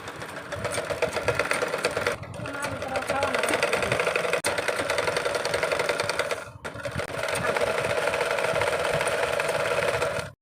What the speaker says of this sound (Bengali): এখন এটা মেশিনে সেলাই করে নিচ্ছি